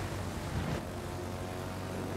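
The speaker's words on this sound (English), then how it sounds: "We might die here, so I'm just gonna launch my planes." Aircraft launch from the US battleship-carrier Kearsarge in a naval combat game, with a steady, loud engine drone and a brief whoosh under constant machinery rumble.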